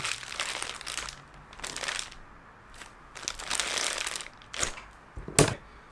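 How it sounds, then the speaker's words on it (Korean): Plastic wrap is peeled off a Manfrotto Befree travel tripod, making close, loud crinkling and rustling bursts in several uneven stretches, ending in a few sharp crackles. "비닐 한번 제거해 보겠습니다."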